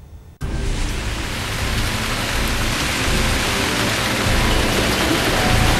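Heavy downpour during an unseasonal February storm in North India, a dense, steady roar of rain that starts abruptly and stays loud throughout; no distinct thunder claps stand out.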